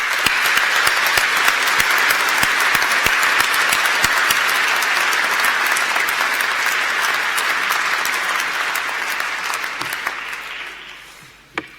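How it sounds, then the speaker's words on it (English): A large graduation ceremony audience at City of Glasgow College gives a loud, dense round of applause that holds steady for about ten seconds, then thins out and fades, with one last clap at the end. "Please join me in giving them a huge round of applause."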